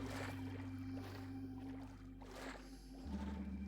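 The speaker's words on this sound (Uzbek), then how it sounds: "Qayiq." Minecraft boat moving across water, a continuous low rumbling wash with faint splashing swells and a steady hum, shifting slightly near the end, without talk.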